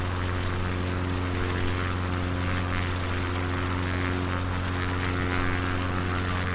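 A propeller aircraft engine drones steadily in Microsoft Flight Simulator 2020 during a bush flight over Patagonia, a loud continuous hum with constant tone heard alone from start to finish.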